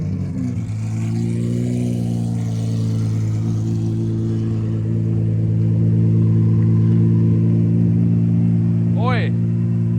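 Lamborghini SVJ engine firing up warm and settling into a loud, steady low rumble that holds throughout, with a brief higher rising rev near the end.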